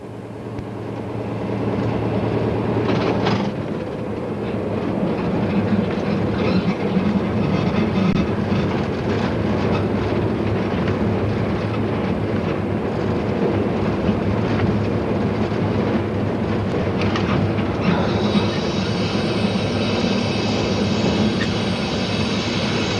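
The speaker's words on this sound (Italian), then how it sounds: "Il treno si ferma così a Villach-Kienburg." A train runs on the Gailtalbahn line near Villach, heard from the cab as a loud, steady rumble of wheels and motor with rail clatter, a brief sharper noise early on and a change in tone late in the run.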